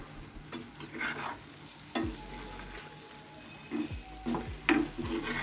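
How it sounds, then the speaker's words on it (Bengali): Sweet pumpkin frying with shrimp in a home kitchen pan, a soft steady sizzle broken by several sharp spatula clanks and scraping stirs close by. "মিষ্টি কুমড়া ভেজে নিচ্ছি চিংড়ি মাছ দিয়ে।"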